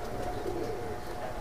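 An Oman bloodline Teddy pigeon coos softly nearby, a low murmuring call that rises briefly midway against a steady background hum.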